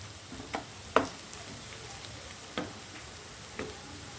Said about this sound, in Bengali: তেলটা গরম হয়ে গেছে, আমি পেঁয়াজটা দিয়ে দেবো।